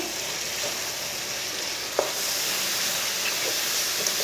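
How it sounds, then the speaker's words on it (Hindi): Boiled lentils sizzle steadily in a pan with fried spices while a spoon stirs them, giving a single clear scrape or clink midway and a few faint ones later. "दाल डाल के 2 मिनट तक भून लेंगे।"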